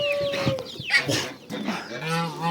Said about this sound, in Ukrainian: Чотири курочки підряд в мене